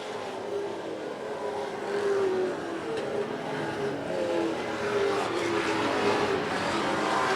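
Late model stock race cars racing around a track, a continuous engine roar with rising and falling pitch as cars pass and accelerate, steady and moderately loud throughout.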